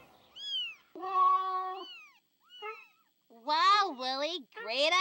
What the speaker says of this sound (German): Should we warn the birds or let Miss Cat keep going?